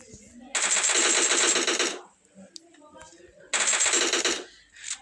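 A machine gun in a battle royale video game fires two long, loud, rapid bursts separated by a brief pause filled with faint clicks.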